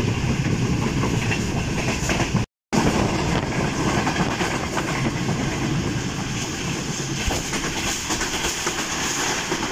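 The Karakoram Express runs fast on the rails at about 88, a loud, steady roar of wheels with rhythmic clickety-clack and carriage rumble heard from onboard, with one brief cut.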